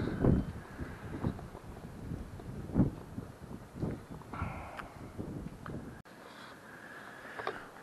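Gusty wind buffets a cabin roof outdoors in uneven surges, with scattered knocks and rattles close by and no talking.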